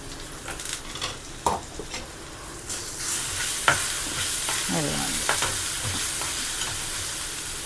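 A paste of green chilli, ginger and garlic fries in a pan, a close sizzling hiss that swells after being stirred in, with scattered spoon scrapes and clicks.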